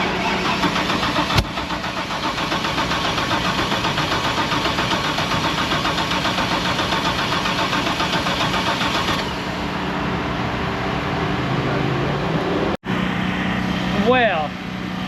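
A race car engine running loud and steady in one long stretch, its rough, continuous roar easing slightly near the end, with a brief dropout and people talking.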